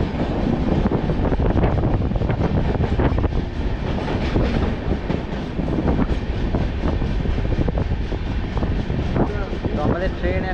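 The Jammu Tawi Express runs on after leaving Gaya, a loud, dense on-board roar of wheels and carriage with faint rhythmic clatter throughout.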